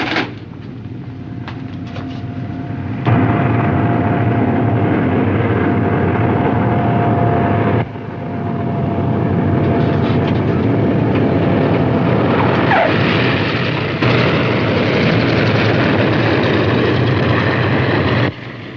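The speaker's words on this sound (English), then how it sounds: "Yeah, that is our plane." An airliner lands and taxis in a 1961 film scene, a loud sustained jet-engine roar with shifting whine and rumble that swells and eases without pause.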